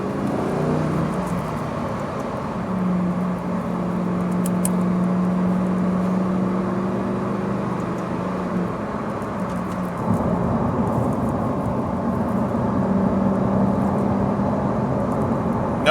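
A 2024 Lamborghini Huracan STO cruises on a road with its automatic gearbox shifting, a steady low engine drone inside the cabin with pitch steps and a gear change around ten seconds.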